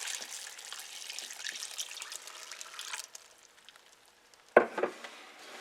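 Water splashes and trickles steadily into a cooking pot while making ham and bean soup, for a few seconds, then stops, followed by a brief clatter.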